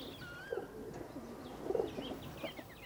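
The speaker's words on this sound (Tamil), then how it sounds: "உங்கள் புறா என்ன பேசியது?" A pigeon coos softly in a few short, low, throaty bursts, fairly faint against a quiet background.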